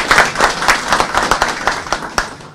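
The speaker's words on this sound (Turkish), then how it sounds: "bir başkanımıza da bir alkış gösterelim" A crowd at an agriculture minister's event applauds with steady, dense clapping that swells and holds for a couple of seconds before tapering off.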